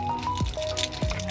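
Brake fluid drips from the brake master cylinder area of a Suzuki Smash 115 motorcycle, with two soft wet drops landing about half a second apart over steady background noise.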